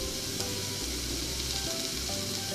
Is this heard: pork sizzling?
yes